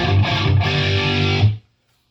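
Electric guitar played through a Gallien Krueger 250ML amp with the overdrive pedal bypassed, a loud, sustained, slightly gritty chord that rings for about a second and a half, then cuts off into silence.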